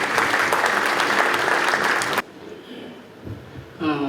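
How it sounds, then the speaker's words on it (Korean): Loud, dense applause from an audience at the official launch ceremony of a Gyeongbuk education task force, filling the first two seconds before cutting away to a quiet hall, then a brief swell of clapping at the end. "큰 박수 부탁드리겠습니다."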